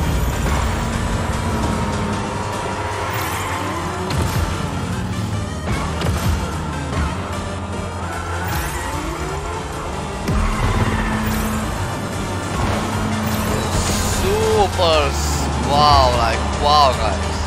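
A rocket car's turbo boost roars in the Fortnite Rocket Racing video game, a loud engine whoosh with whining effects and game music while a person talks excitedly throughout.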